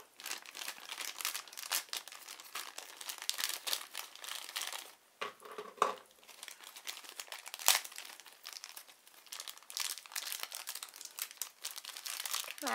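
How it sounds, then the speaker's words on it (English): Close crinkling and crunching of stiff plastic toy packaging being cut with scissors, in irregular bursts with short pauses, fairly quiet throughout. "Let's cut into this plastic if we can with these scissors."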